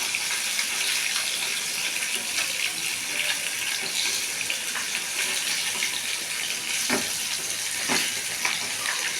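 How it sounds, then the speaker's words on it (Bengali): Pieces of katla fish fry in a pan of hot oil, giving a steady, dense hiss that stays even throughout, with a couple of faint knocks. "মাছটাকে একটু ভালো করে ভেজে ভেজে নিতে হবে"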